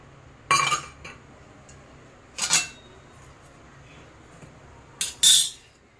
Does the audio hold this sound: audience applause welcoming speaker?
no